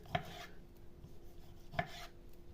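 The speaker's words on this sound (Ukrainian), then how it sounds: "І цибулю кубиком кришимо." Onions are diced by hand, giving two sharp, crisp knife chops well apart over a quiet kitchen background.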